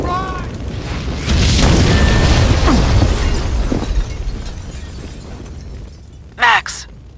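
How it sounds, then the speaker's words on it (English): A building rigged with explosives blows up in the Max Payne video game, with a heavy rumbling boom and crumbling debris that swell loudly, then fade, followed by a short sharp burst near the end while voices speak over it. "The building's blowing up."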